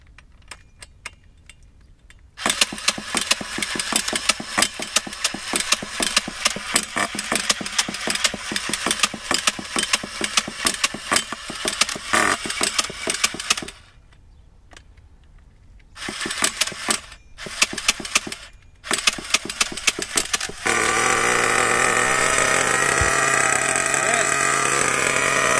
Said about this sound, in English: the engine is started, and this is the break-in process.